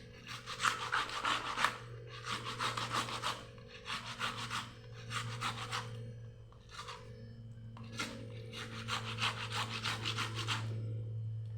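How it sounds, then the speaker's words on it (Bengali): A tomato is rubbed against a grater in rhythmic bursts of close, raspy scraping, about seven strokes with short pauses between, over a constant low background hum. "টমেটোটা ঘষবো, ঘষে বসাবো।"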